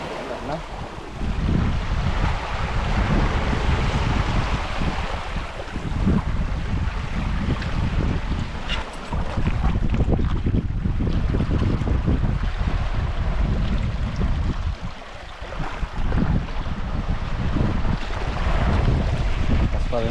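Strong wind at sea buffets a boat's microphone in loud, roaring gusts that surge and ease over about twenty seconds, with a brief lull midway and faint water sounds beneath.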